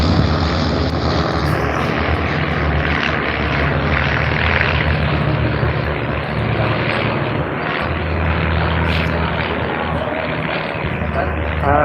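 A propeller aerobatic display aircraft flies a twizzle manoeuvre at the 2018 Bournemouth Airshow. Its engine drones loud and continuous throughout, rising and falling as it turns, with an announcer's voice over it.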